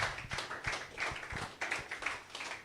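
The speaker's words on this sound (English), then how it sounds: "Keep clapping if you are excited." An audience at a business and real estate school event claps in a quick, steady patter of hand claps, fairly soft and slightly distant.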